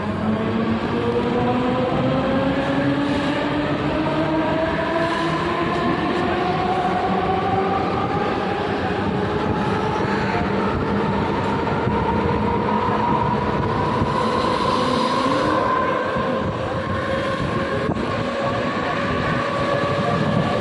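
A train departing Khandeshwar station toward Panvel rolls steadily along the rails, a continuous loud rumble with rising engine tones as it gathers speed, no talk.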